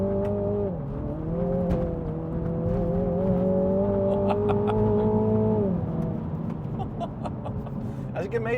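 MINI John Cooper Works GP3 engine revving hard as the wheels spin on a freezing surface, a steady droning note that climbs, holds, then drops back, heard from inside the car with a voice talking over it.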